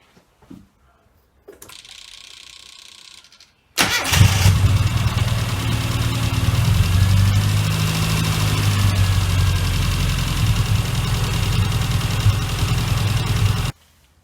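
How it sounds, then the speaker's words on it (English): A Mini John Cooper Works engine cranks over with a short starter whir, then fires and settles into a loud, steady close idle that runs for about ten seconds before cutting off. "And then we'll start the engine and"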